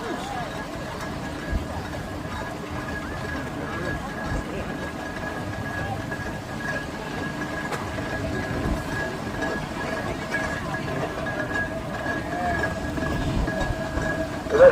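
A steam traction engine at a steam rally, a steady low rumble and chuff with a faint sustained whistle-like tone, fairly loud and continuous throughout, with crowd noise around it.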